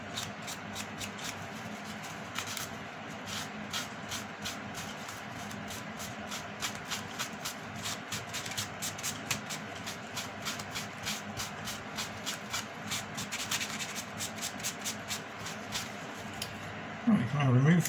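A tissue is rubbed and wiped over a freshly glued 8 ton guards wagon bogie in model railway construction, giving a steady close papery rustle with small scratchy strokes throughout and a brief low bump right at the end.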